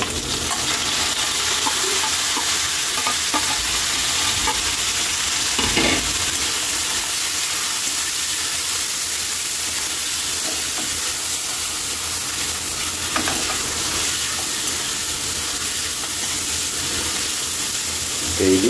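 Tomatoes sautéing with onion and garlic in a pan make a steady, close sizzle and hiss that runs throughout, with occasional soft stirring scrapes and no talk.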